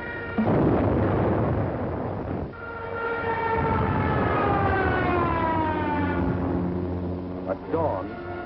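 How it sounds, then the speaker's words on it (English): In a World War II war film, an air raid siren wails with rising and falling tones over a rumbling background, and heavy bomb blasts break in at the start and near the end. "German bombs told the Yugoslavians they were at war with Germany"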